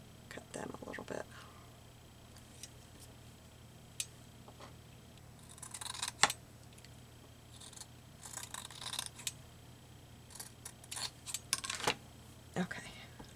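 Scissors snip through folded paper ends for a Bible-journaling collage in a few separate bursts of close, crisp cutting, with quiet pauses and soft handling noises between.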